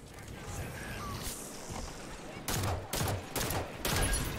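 Gunfire from the Halo 5 video game, quiet game ambience followed by several loud bursts of automatic fire in quick succession toward the end.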